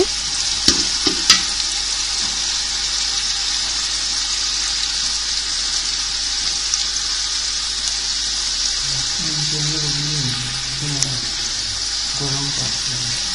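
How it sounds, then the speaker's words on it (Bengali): A steady, loud sizzle of onions frying in a pan, with occasional clinks of a spoon stirring and a voice murmuring faintly beneath. "পেঁয়াজটাকে একটু ভেজে নিচ্ছি"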